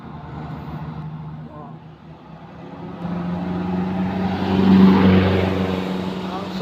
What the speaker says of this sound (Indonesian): muatan cukup tinggi, suara mesin begitu keras.